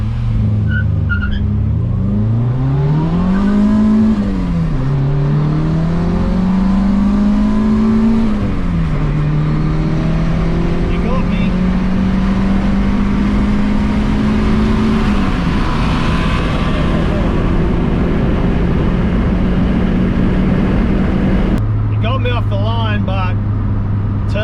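A turbocharged Honda Civic EK1 with a D16Y4 engine street drag races a naturally aspirated B16A2 EK4. One loud engine climbs through rising gears in strained pulls, with constant close road and wind roar.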